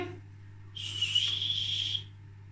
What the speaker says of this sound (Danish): Jeg på en måde tror jeg faktisk, at det er en fløjte.